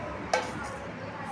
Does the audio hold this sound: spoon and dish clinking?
yes